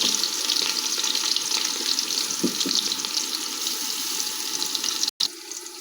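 Garlic fries in hot oil in a pan while rice is being cooked, a steady close sizzle that fills the clip and cuts out for a moment near the end.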